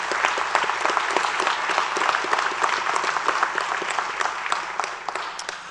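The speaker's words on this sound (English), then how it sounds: "Let's give them all a big round of applause." Steady, dense applause from an audience at a police academy class graduation ceremony, a full room of clapping holding at even strength throughout and tapering slightly at the end.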